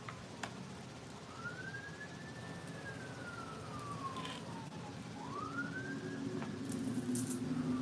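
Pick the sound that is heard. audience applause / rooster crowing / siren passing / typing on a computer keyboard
siren passing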